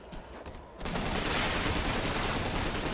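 Gunfire from a weapon in the video game Lost Planet, a brief quieter lead-in followed by a sudden, loud, sustained barrage of rapid shots and explosions that holds steady to the end.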